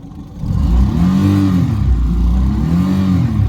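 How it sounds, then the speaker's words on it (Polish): A car engine revs up twice in quick succession, each rev swelling into a deep, smooth growl and easing back, loud and close. "kultura pracy tego silnika jest zachwycająca. No i ten pomruk jego, jak się daje mu trochę tak"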